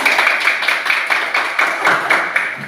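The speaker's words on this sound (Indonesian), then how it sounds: "Tepuk tangan dulu" Children in a classroom at SDN 076722 Lolomoyo Samiri clap together in a steady, rhythmic pattern of about a dozen sharp, evenly spaced claps, close and fairly loud.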